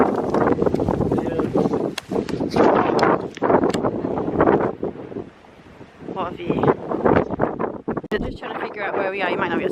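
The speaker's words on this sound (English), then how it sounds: "You might not be able to hear me with the wind." Strong wind gusts outdoors on open ground near a dike, roaring loudly into the microphone for most of the stretch, with a brief lull in the middle and people talking over it.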